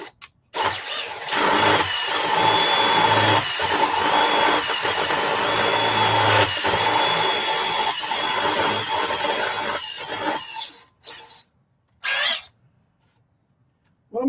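Power drill boring into a crankshaft, a loud sustained whine for about ten seconds with slight pitch wavers, then stopping and giving two short bursts before falling quiet.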